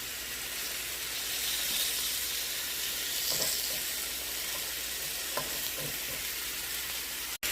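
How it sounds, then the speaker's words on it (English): Smash burger patties with Vidalia onions sizzle and fry on a griddle in a steady broadband hiss, with a few faint scrapes and clicks, ending in a brief dropout. "All that oniony goodness cooking right into our burger patties"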